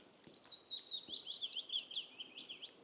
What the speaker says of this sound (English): There's a willow warbler here somewhere.